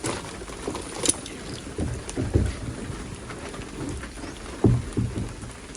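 Steady rain falls on a surface with low rumbles of thunder rolling in, including a heavier rumble near the end, heard during flooding at a botanical garden in Rayong.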